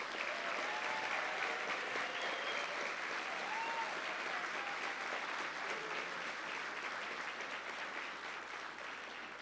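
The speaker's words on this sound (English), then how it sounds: "Let's have another round of applause for all of our new inductees." A large crowd at an engineering college ring ceremony applauds new inductees, sustained even clapping from many people filling the whole stretch, with faint voices and whistles threaded through.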